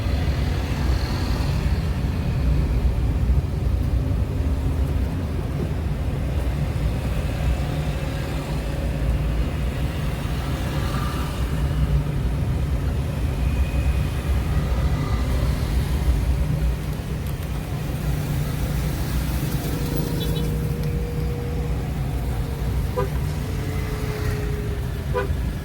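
Jammed city traffic in Palembang near BTC: a continuous dense rumble of car and motorbike engines, with scattered horn toots rising from the mix over a long stretch, no voices.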